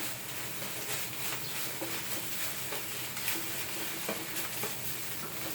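Rice being stir-fried for vegetarian fried rice, a steady dense scraping and sizzling texture with faint clicks of the spatula, continuous and fairly close, with no talking.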